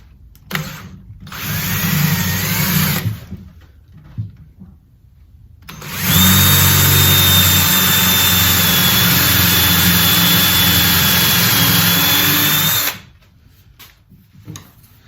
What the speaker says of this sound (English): Now I'm just going to drill through here.